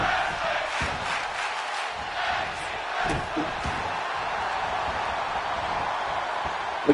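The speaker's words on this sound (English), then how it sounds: "The crowd here tonight yelling for tag team wrestling." A tag team wrestling crowd yells and cheers in a steady, dense roar with scattered whoops and shouts rising above it, loud and continuous throughout.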